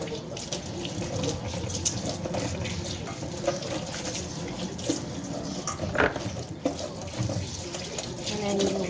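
Tap water running into a sink while chopped carrot is rinsed, a steady splashing stream with small knocks and handling sounds, close and moderately quiet, with no talk.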